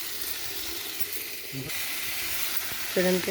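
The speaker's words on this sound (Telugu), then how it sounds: "చక్కగా ఫ్రై అవుతుంది టమోటా ఎర్రగడ్డ" Tomato and onion frying in oil in a pan, a steady close hiss and sizzle running throughout, with a brief spoken word near the end.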